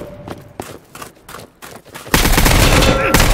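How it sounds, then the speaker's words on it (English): Rapid gunfire in the shooter game Project Delta: a few scattered shots give way to a loud, sustained burst that fills the second half of the clip, close and dense. "I shot him four times."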